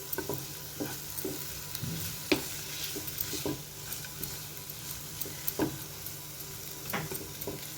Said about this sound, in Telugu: కాస్త మూత పెట్టేసి మనము ఇవన్నీ మసాలాలు కలిసేలాగా కలుపుకోవాలి